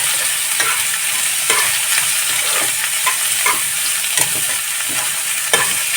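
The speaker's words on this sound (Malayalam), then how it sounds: "ഞാനിവിടെ രണ്ട് വലിയ സവാളയാണ് എടുത്തേക്കുന്നത് എന്നിട്ട് നന്നായിട്ട് ഇളക്കി കൊടുക്കണേ" Two large sliced onions stirred in a hot frying pan, a continuous close sizzle broken by repeated scraping strokes of the spoon, with no voices.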